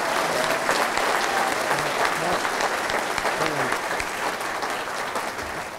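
Hall of Fame audience applauding the 2013 class of sports inductees in Garland, a dense, steady round of clapping from a large crowd that holds strong for about six seconds.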